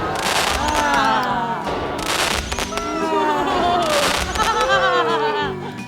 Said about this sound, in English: we're about to light the giant cupcake candles. Spoiler alert, they're actually fireworks.